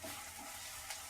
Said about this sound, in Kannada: ಸೊ ನಾವಿವಾಗ ಈರುಳ್ಳಿ ಹಾಕೊಂಡು ಫ್ರೈ ಮಾಡ್ಕೊತಾ ಇದೀವಿ